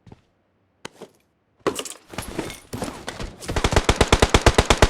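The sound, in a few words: gunfire from a tower in video game PUBG Mobile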